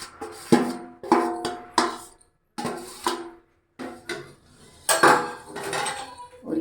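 Besan barfi mixture being stirred and pressed in a metal pan with the gas turned off, giving repeated scraping and clanking strokes in uneven bursts with short pauses between them, close and fairly loud.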